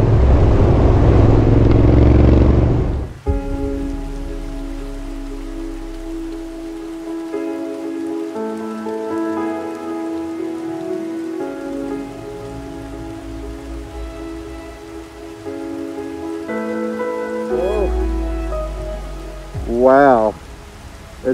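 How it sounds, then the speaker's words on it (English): Heavy, relentless rain pours steadily during a winter motorcycle ride, a dense hiss over the low drone of the engine, with a brief louder rush at the start and engine tones rising and falling later. "It's like just relentless. It's relentless pouring rain."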